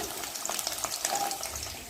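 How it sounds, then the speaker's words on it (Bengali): Chicken pakoras deep-fry in oil, a close, continuous bubbling sizzle with faint scraping, heard alone without talk. "এই যে চিকেন পকোড়া ভাজা হচ্ছে"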